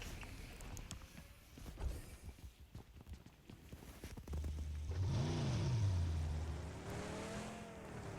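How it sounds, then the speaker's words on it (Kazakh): A car engine in a video game starts up and drives off, a rising rev that climbs and then holds as a steady, moderately loud drone after a few seconds of quieter clattering. "Фул машина ғой мынау."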